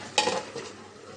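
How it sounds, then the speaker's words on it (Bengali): A single metal clatter as a lid is set down over a pot of puti fish cooking with long beans and potatoes, one sharp clank followed by a brief fading rattle in a quiet kitchen. "এখন ঢাকনা দিয়ে ঢেকে রাখবো"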